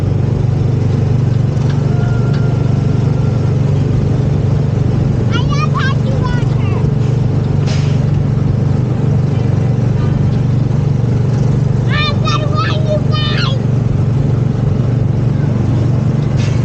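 A small ride car hums along a track at a Disney World amusement park as a steady, loud low engine-like drone, while people talk over it in bursts.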